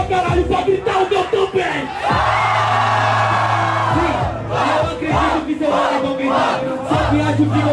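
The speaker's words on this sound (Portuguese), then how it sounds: "Gritaram meu nome, eu pedi pra eles não gritar." A Brazilian rap battle crowd chants and yells a rapper's name in loud, rhythmic bursts, with massed voices swelling and repeating close up throughout.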